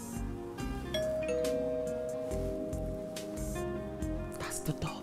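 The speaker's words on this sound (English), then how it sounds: "That's the doorbell." A doorbell chimes with a sustained ding-dong tone over voices and background sounds in a room.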